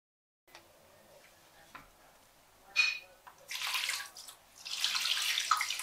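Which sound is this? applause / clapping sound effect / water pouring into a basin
water pouring into a basin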